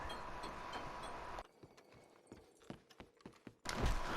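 A horse in Red Dead Redemption 2 trots with clear, rhythmic clip-clop hoofbeats, close and distinct, between louder bursts of game ambience and noise.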